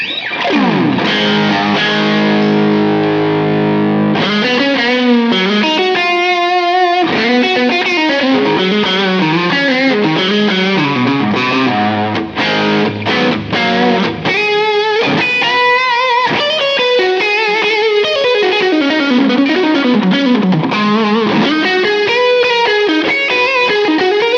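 A Modern Eagle V electric guitar on its humbucker plays a heavily distorted rock tone: loud, thick riffs and chords continuously, with sustained crunchy notes and quick changes, no voices.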